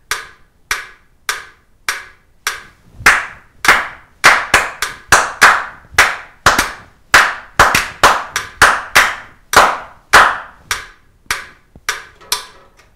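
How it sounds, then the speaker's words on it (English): Hand claps beating out a syncopated rock rhythm together with a metronome, sharp, close and loud, some claps evenly spaced and others bunched in quick uneven groups, with no talking. "I'm going to play the metronome and clap the rhythm for you at the same time"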